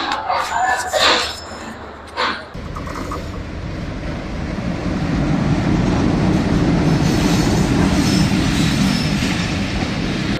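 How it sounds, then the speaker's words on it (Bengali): The Banglabandha Express rolls into platform 1 at Natore railway station behind its locomotive, building to a loud, continuous rumble of wheels and carriages after some brief platform noise and voices at the start. "লোকোমোটিভ নিয়ে প্রবেশ করে গেল এই মুহূর্তে নাটোর রেল স্টেশনের 1 নম্বর প্ল্যাটফর্মে বাংলাবান্ধা ওরফে জানালাবান্ধা এক্সপ্রেস"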